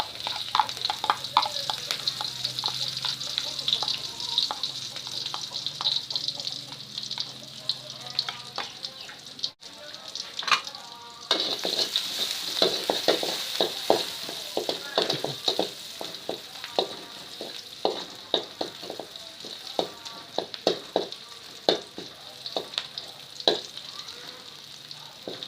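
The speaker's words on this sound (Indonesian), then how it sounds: "kemudian kita tumis bumbu yang kita iris-iris tadi ya." Sliced spices sizzle steadily in a hot frying pan while being sautéed for homemade fried noodles, a continuous close hiss broken by frequent scraping and stirring clatters of a spatula against the pan.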